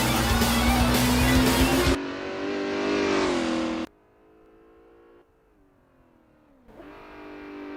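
A car drives on a race track, its engine revving hard and loud, then easing off and shifting between throttle levels, with a quieter stretch before the engine note rises again near the end.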